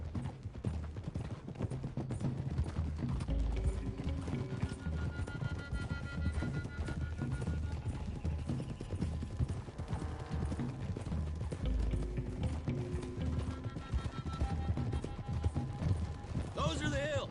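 In Red Dead Redemption 2, horses gallop along a road with a steady, continuous clip-clop of hooves under game music and characters talking throughout.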